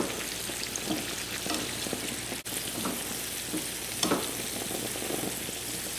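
Eggs being broken up and folded into a hot pan of mussels and artichokes, giving a steady loud sizzle with scraping stirs and occasional spatula taps, no talking.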